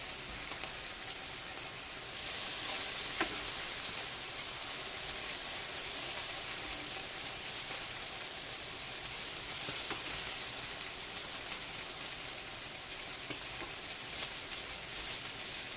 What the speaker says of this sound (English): And I have my bacon on here. So I'm going to let that cook.